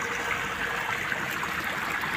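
Cold water flowing steadily on a farm in Saudi Arabia, a constant close rushing and trickling stream with no pauses and no voices.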